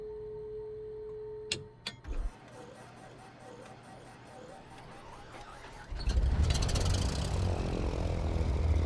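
A simulated Cessna 414 twin-engine aircraft in Microsoft Flight Simulator 2024 with a window opened, a few clicks and switch sounds and a low hum, then the engine catches and roars loudly into a steady rumbling drone.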